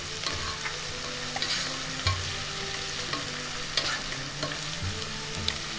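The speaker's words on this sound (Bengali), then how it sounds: "পেঁয়াজটা ভাজা হচ্ছে" Onion and tomato frying in oil for Bengali mutton kosha, a dense close-up sizzle with frequent clinks and scrapes of a spatula stirring the pan, steady throughout with no voices.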